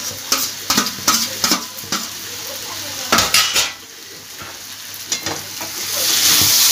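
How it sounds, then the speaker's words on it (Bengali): Jackfruit and prawns are stir-fried with spices in a Bengali-style pan dish. Close metal spoon clanks and scrapes against the pot come in irregular bursts over an oily sizzle that builds steadily toward the end. "দিয়ে ভালোভাবে কষিয়ে নেব, মশলার সঙ্গে মিশিয়ে নেব। চিংড়ি মাছটাও দিয়ে দেব।"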